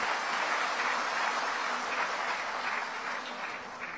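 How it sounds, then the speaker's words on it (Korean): A crowd applauds at a party political rally for the representative, a dense, sustained clapping that fills the hall and fades slightly toward the end, with no voices over it. "강대섭 대표 최고위원께 다시 한번 뜨거운 격려의 박수 부탁드립니다"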